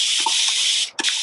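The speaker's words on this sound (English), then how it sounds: "Got my spray bottle, and I'm gonna go ahead and start raining on this paper." Water from a spray bottle hisses onto a paper watershed model in a steady, close spray, broken by a brief pause and then a second burst.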